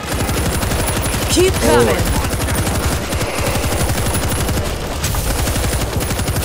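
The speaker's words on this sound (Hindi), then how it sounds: "मशीन गन हमने ले ली है।" A machine gun in the zombie shooter video game World War Z rattles continuously at close range. Loud rapid bursts run almost unbroken, and a voice briefly calls out over the firing.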